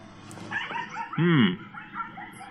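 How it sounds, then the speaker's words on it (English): A dog yips and whimpers outdoors in a short, high-pitched burst that rises and falls, fairly close, over a low background bed and faint voice-like sounds. "Yeah, my dog's out there trying to get hit by a car."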